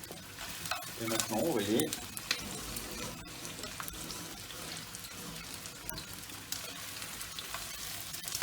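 Coarsely chopped garlic sweats and sizzles in a pan while being stirred for a chicken tajine with lemon; a steady close frying hiss with scraping stirs, and someone speaks briefly.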